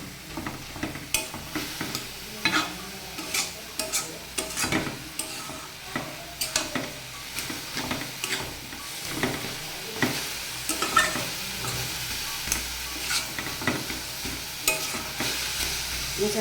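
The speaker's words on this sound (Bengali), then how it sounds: "মোচাটাকে কিন্তু বেশ ভালোভাবে নেড়ে চেড়ে দিতে হবে।" Banana flower frying in a pan, stirred vigorously with repeated scraping strokes in a steady rhythm over a constant sizzle, close and fairly loud, with no voices.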